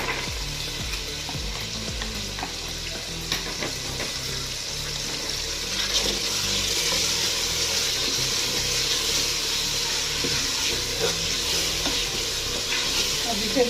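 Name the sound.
frying potatoes and peas with spices in a pan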